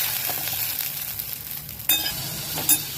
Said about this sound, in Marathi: त्याच्यामध्ये आपला कांदा फ्राय करून घेऊया